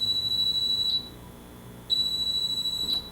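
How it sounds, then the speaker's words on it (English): A tornado alert device sounds its alarm as two long, steady, high-pitched electronic tones, each lasting about a second, separated by a short gap, loud and close with no talking. "if the storm continues to intensify and there's a tornado, it will alarm again"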